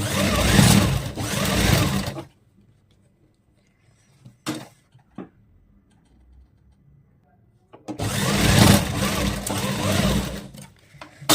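A sewing machine runs a loose basting seam on palazzo pants in two loud, steady whirring bursts, close by, separated by a quiet pause with a few soft handling clicks.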